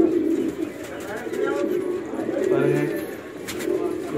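Pigeons for sale at a bird shop coo softly and intermittently beneath steady background chatter and a person talking.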